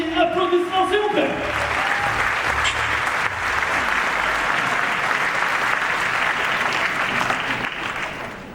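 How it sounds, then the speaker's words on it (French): An audience at a New Year's greetings ceremony applauds the mayor of Fos, a dense, sustained round of clapping that swells after a brief spoken introduction and tapers off toward the end. "Applaudissements s'il vous plaît."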